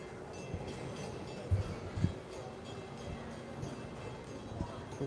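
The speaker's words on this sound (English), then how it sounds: "You can hear the train right back there." A train runs in the background near an Animal Kingdom setting: a steady, faint low rumble holds throughout, with a few soft thumps and light clatter along the way.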